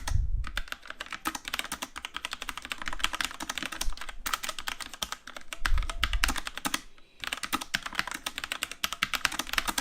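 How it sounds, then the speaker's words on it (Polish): Rapid, dense clatter of keystrokes on a Genesis Thor 400 RGB keyboard, typed steadily for about ten seconds with a couple of brief pauses, close and fairly loud, no voices. "zaraz usłyszycie próbkę tego, jak głośna jest klawiatura Genesis Store 400"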